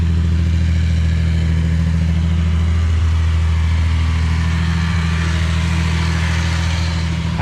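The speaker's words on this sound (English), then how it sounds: "Got a deeper tone to the exhaust so you can hear it purr." A steady, deep exhaust rumble from an idling 1973 Datsun 240Z straight-six engine, constant and close, with a faint mechanical clatter and no voices.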